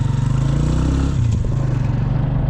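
A motorbike engine idles and revs close by with a rapid pulsing throb, shifting pitch halfway through as it pulls away, loud and alone without talk.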